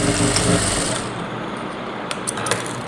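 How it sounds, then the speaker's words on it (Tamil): A sewing machine stitching a blouse runs with a steady, close mechanical whir for about a second, then a quieter continuous hum follows with a few small clicks. "இப்போ நான் நார்மல் தையல் பண்ணிடுறேன் கெட்டி தையல் போட்டு முடிக்கிறேன்"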